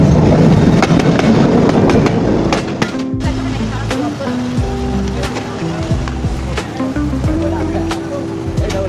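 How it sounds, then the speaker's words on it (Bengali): A passenger train on the Khulna to Benapol line in Bangladesh rolls into a station with a loud, heavy rumble and clatter. Sustained tonal blasts and whines follow the rumble. "ট্রেন আসতেছে অলরেডি, ট্রেনের হর্ন শোনা যাচ্ছে।"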